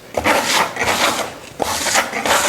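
Trowel spreading plaster over sandstone on a Tuscan-style wainscot wall, in a series of close, loud rasping swipes separated by short pauses.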